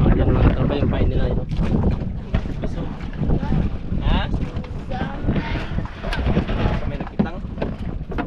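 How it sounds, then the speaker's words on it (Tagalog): Strong wind buffets the microphone out at sea aboard a fishing boat, a constant loud roar with gusty surges throughout, while people talk briefly over it. "Medyo mahangin talaga mga katropa"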